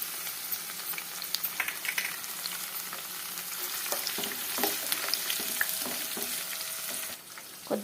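Crushed garlic cloves frying in hot oil for a coriander pachadi, giving a steady close sizzle with scattered pops and occasional stirring clicks, no voices.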